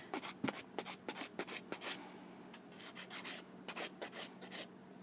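Fingernails being filed with a nail file, quick rhythmic scratchy strokes in short bursts, close and quiet with no voice.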